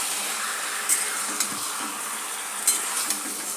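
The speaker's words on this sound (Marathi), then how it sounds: "आता फास्ट गॅसवरती आपल्याला चिकनला चांगलं परतून घ्यायचं आहे।" Chicken coated with turmeric and salt frying on a high flame, a continuous hiss of sizzling with several light clinks and scrapes of a spatula stirring in the pan.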